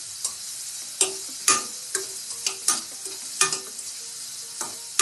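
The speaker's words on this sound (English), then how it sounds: "You just saute it till the onions become translucent in nature." Onions, ginger and slit chilies saute in a hot pan, giving a steady high sizzle. A spatula scrapes and stirs at irregular intervals, each stroke making a sharp scraping tick close by.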